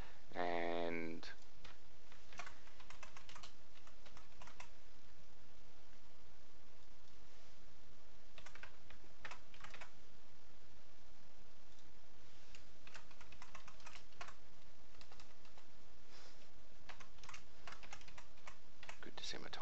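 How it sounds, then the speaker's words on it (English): Rapid bursts of computer keyboard typing, close and fairly quiet, with clusters of keystrokes separated by short pauses while a screen printing price entry is filled in. "good to see my typing's as spot on as always"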